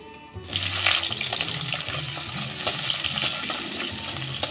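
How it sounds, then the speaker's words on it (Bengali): Diced half of a large capsicum lightly frying in a pan for a paneer and dal dish: a steady, close sizzle with soft stirring scrapes throughout, no talking. "এই ক্যাপসিকামটা খুব হালকা ভেজে নেব"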